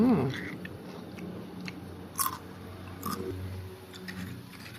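Homemade chicken-flavoured potato chips crunch close up in a few sharp bites at a slow, uneven pace, with a short hum or murmur at the start and quiet chewing between the bites.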